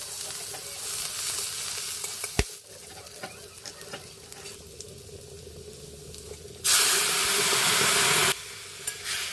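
Chopped leafy greens for a village-style greens curry cook in a pan with a steady sizzle and stirring, swelling into a louder burst of frying for a couple of seconds.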